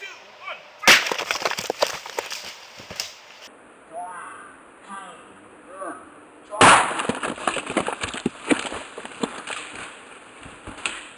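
A dynamite blast from two small sticks set off while prospecting for gold in quartz: a sharp loud crack followed by crackling debris, then a second blast with rattling fallout, under a faint voice.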